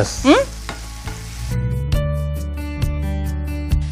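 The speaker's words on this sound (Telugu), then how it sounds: "సో ఆనియన్స్ ఫ్రై అయ్యా, కొద్దిగా ఫ్రై అవ్వాలి, ఇంకొంచెం ఫ్రై అవ్వాలి ఇది" Onions sizzling in a hot pan with repeated stirring strokes, steady frying crackle punctuated by sharp clinks of the spoon against the pan, a brief sliding whistle-like scrape near the start.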